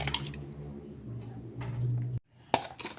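Ice water is stirred into a puff pastry flour mixture with wet squishing and dripping, close and intermittent, broken by a brief pause and a sharp clink near the end.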